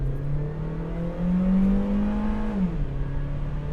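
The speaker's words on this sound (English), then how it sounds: "I'm gonna have to accelerate right here." A 2009 Honda Civic EX-L with 80,000 miles accelerates hard from inside the cabin, the engine note rising steadily to a peak before easing off as it shifts and settles into a lower drone.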